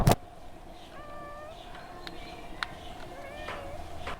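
A cat meows several times in short, clear calls outdoors, moderately close, against a steady background hum with a few sharp knocks and no talking.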